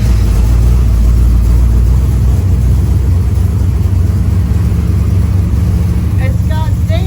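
A Dodge Dakota pickup converted into a race car, its engine droning loud and steady at close range while driving, with people talking over the constant roar.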